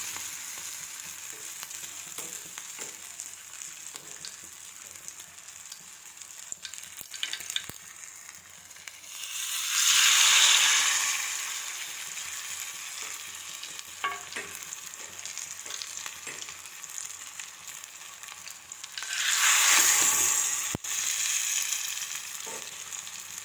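Pumpkin flower fritters fry in hot mustard oil with a constant close sizzle, swelling into two loud hissing bursts about ten seconds apart before settling back to a steady crackle.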